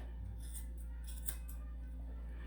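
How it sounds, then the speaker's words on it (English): Scissors trimming the ear hair of a Portuguese Water Dog, a few quiet close snips over a low steady background hum. "get all those hairs that stick out, and trim those hairs."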